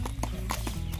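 Hooves of a Kyrgyz ulak (kok-boru) horse clip-clop in a quick, close, rhythmic series, over low background rumble.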